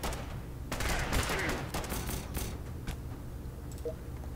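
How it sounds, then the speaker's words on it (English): Rapid burst of sharp zapping laser-weapon shots from Fallout Shelter fires in quick succession over background noise, crackling and dense, then thinning out toward the end. "There's the laser weapon sound."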